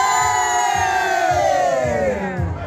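Crowd of East Marion Fire Department members on Long Island, New York shouting a group cheer together at a party, loud and sustained with rising voices over a rhythmic low thumping background.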